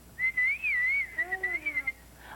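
A person whistles a wavering melodic tune, first with long sustained notes, then a series of short chirpy notes, close and clear.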